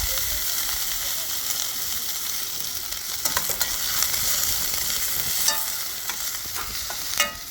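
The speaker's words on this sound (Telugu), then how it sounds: "ఫైన్లీ చాప్డ్ ఆనియన్స్ ఇలా కొంచెం ఫ్రై అవనిద్దాం" Finely chopped onions fry in hot oil for chicken biryani, giving a loud, steady sizzle with occasional scrapes and clicks of stirring close by.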